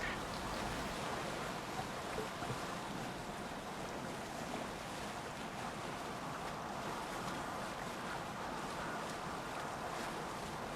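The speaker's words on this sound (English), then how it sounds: "enjoy this little boat ride in peace" Steady rushing of water around a longboat in the video game Assassin's Creed Valhalla, with a constant whoosh of wind and waves, continuous and fairly loud throughout.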